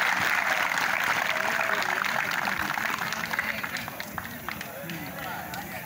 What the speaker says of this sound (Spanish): ¡Fuerte los aplausos! ¡Fuerte los aplausos!